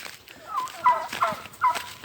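Turkeys on a farm gobble in three quick rattling bursts, close and fairly loud, within a couple of seconds.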